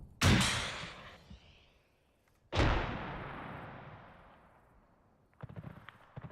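Two heavy rocket launcher blasts in ArmA 3, each a sharp loud boom trailing off into a long rolling rumble, followed by a few faint distant pops at the end.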